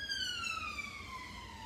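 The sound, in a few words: sirens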